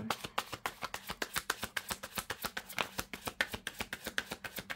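Tarot cards shuffled by hand in a quick, even run of soft riffling slaps, close and fairly quiet, with no talking.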